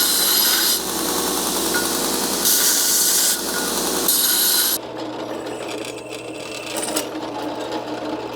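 Polishing a silver-soldered waterphone, a steady loud whirring, buffing hiss for several seconds with brief dips, then stopping, leaving quieter light scraping and rubbing.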